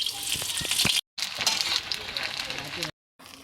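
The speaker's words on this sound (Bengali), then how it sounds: "কিছু পাপড় ভেজে নিচ্ছি" Papad frying in hot oil at home, a bright crackling sizzle close up, broken by two short cuts to silence, steady and fairly loud between them.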